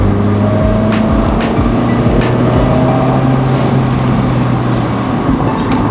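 A Mazda Miata NB cruises in third gear on open roads, a loud steady engine drone with a constant low hum and rising and falling overtones, and road and wind noise throughout.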